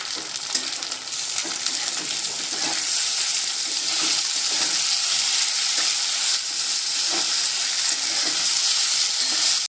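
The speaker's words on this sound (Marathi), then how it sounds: "हे मी दोन टोमॅटो बारीक कापून घेतलेले आहेत ते आपण आता त्याच्यामध्ये भाजून घेऊया" Finely chopped tomatoes fry with onions in hot oil for spicy egg bhurji, a steady loud sizzle running throughout, with scattered scrapes of stirring and no voices.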